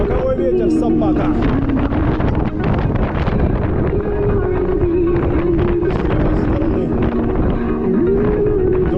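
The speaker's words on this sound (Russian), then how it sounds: "Боковой ветер, собака." A crosswind in Crimea in May roars into the microphone while riding, a steady, loud buffeting rush throughout with a faint tonal hum underneath.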